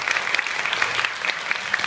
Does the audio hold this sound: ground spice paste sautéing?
no